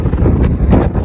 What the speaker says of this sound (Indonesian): Angin kencang banget cuy, angin laut